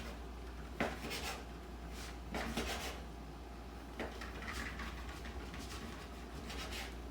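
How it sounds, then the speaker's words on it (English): A knife works slowly through a tough, woody wild reishi mushroom, cutting it into strips; a few distinct rasping cuts and board knocks come up close over a low steady hum, with no talking. "And then we're just going to cut strips."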